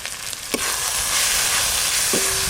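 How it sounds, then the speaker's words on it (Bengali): Onion, ginger and garlic frying with ground coriander, chili, turmeric and black pepper in a pan, giving a close, steady hissing sizzle with a couple of brief utensil taps. "পেঁয়াজ আদা রসুন একসঙ্গে খুব ভালো করে কষে নিয়েছি"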